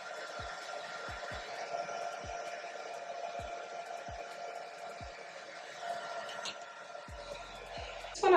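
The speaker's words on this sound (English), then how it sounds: "I'm also gonna take that blow dryer again. Ooh, put it on low." Blow dryer on its low setting warming and melting a glueless wig, a steady soft airy whoosh running throughout with faint scattered knocks and a brief louder clatter at the end.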